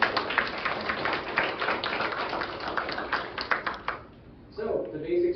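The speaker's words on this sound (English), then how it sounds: "If you'd give them a round of applause for coming in." An indoor audience applauds debate candidates Melissa Ward and Don Edwards in Atlanta, Michigan: dense, steady clapping that thins out and stops, followed by a brief spoken voice.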